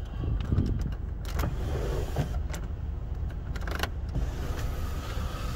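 The sunroof motor on a 2013 Volkswagen Beetle hums steadily as the panel opens, a continuous close whir inside the cabin with a few small clicks and knocks and no talking.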